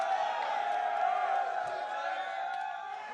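Large arena crowd at the S3 League of Legends World Championships, a sustained distant roar of cheering and whoops that holds steady and then fades slightly.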